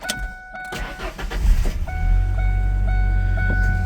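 A 1996 Ford Ranger XLT pickup cranks briefly and fires, settling into a steady, fairly loud idle close by, with a high tone running through and no talk.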